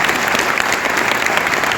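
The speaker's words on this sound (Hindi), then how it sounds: "मैं एक बार तालियां चाहूंगा विवेक सर के लिए।" A seminar audience in a hall applauds a guest, a dense, loud, continuous burst of many hands clapping throughout.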